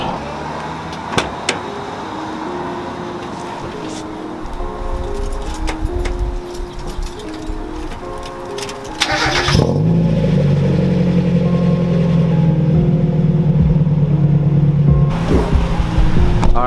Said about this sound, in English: let's go ahead and fire up the engine real quick and let it warm up